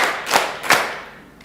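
Students in a classroom clap in unison during a counted clapping routine: two crisp group claps about a third of a second apart, then a fainter third, all close and without talk.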